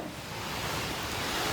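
Wind-driven rain outside, a steady broadband rush with a low gusting rumble, continuous and fairly loud with no voices.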